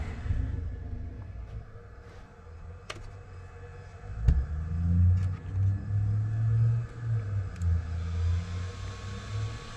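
The small electric motor of an HPI RS4 Sport 3 Flux Porsche RC car hums and whines, building to a buzzing rumble with uneven surges as it runs close by.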